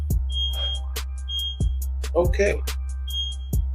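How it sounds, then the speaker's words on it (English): A studio smoke alarm goes off in a false alarm, giving short, thin high chirps at intervals behind low-frequency hum, sharp knocks and a brief spoken word. "We have a false alarm over here at the studio"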